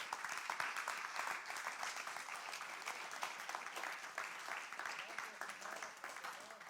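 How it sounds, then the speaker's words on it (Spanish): Church congregation applauding the Lord during a sermon, a steady wash of many hands clapping throughout, fairly distant and even, with talk faintly present underneath. "Dele palmas al Señor."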